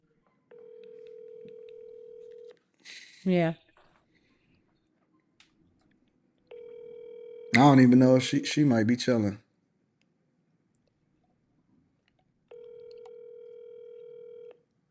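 Outgoing phone call tone: steady ringback tones repeat three times through a handset, each lasting about two seconds, with someone speaking briefly in between.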